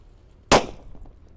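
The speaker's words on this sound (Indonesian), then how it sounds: "Kalau ini disco happy flower yang warna ungu, kita nyalakan di kobangan air guys." A purple disco happy flower firework, lit in a water puddle, goes off with a single sharp, loud bang, followed by faint crackling and fizzing as it fades away.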